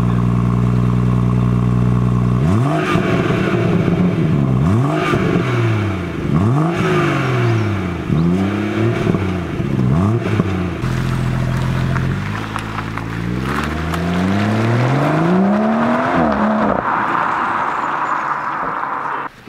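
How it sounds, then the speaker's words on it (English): A BMW car engine revved repeatedly in short bursts, several rising and falling sweeps close by, then a longer climbing rev, loud throughout with steady engine hum between blips. "Can you give me a rev? Just rev it for me."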